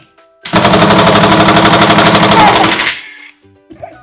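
A power driver running a fastener into wood in a woodworking shop, a loud rapid ratcheting burst lasting a couple of seconds at close range before it stops, with a faint voice afterward.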